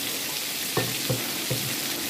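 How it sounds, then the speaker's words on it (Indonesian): Ground spice paste frying in a little oil in a wok, a steady soft sizzle with three brief utensil clinks as it is stirred. "Kemudian saya akan tumis ini bumbu yang sudah dihaluskan tadi."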